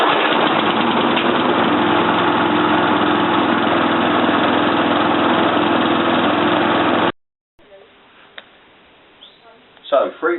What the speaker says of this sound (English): To start your lawnmower, usual way, 3 pumps, run it for 5 minutes so the oil is nice and loose